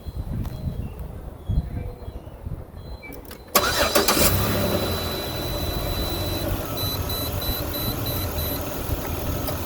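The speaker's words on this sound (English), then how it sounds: "I am going to start the car" A car engine cranks and starts partway through, shifting from quiet rustling into a loud, steady idle that holds to the end, with a faint electronic whine over it.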